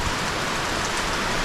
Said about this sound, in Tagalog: Malakas pa rin po yung ulan.